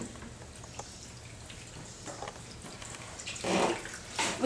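Water pours and splashes during a one-third water change in a betta fish tank, soft trickling that swells into louder gushing bursts near the end.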